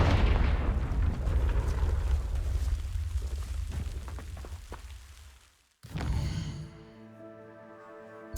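Confringo fire spell blast in Hogwarts Legacy, a loud rumbling explosion that roars for several seconds and fades, then a sudden cut to a quieter magical shimmer with ringing tones.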